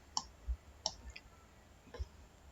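Mouse clicks on a web page link during an HTML tutorial: three or four sharp, separate clicks spaced irregularly over a quiet background.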